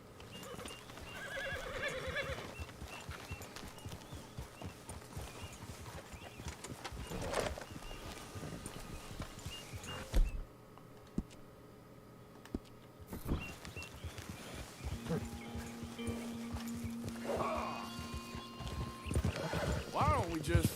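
A horse in Red Dead Redemption II clip-clops along and lets out neighs amid game sounds and ambient noise, with voices talking at times over the hoofbeats.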